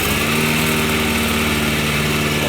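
A Toro 21-inch commercial walk-behind lawnmower engine idles steadily up close, a constant even hum with no talk over it.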